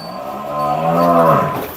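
A Haryana Murrah buffalo on a dairy farm in Vadgaon Maval gives one long, loud, close moo that rises and then fades, with no other sounds around it.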